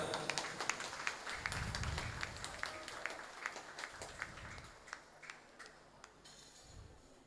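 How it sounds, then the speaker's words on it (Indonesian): Audience applause at an Islamic study gathering, scattered clapping that starts fuller and thins out into separate sharp claps, moderately faint with some low background rumble. "Monggo diberikan aplaus, tepuk tangan"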